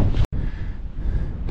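Strong wind on a Scottish mountain path up Beinn Liath Mhor in April buffets the microphone in a continuous low rumble, broken by one brief dropout near the start.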